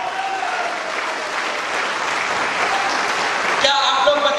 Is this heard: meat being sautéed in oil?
no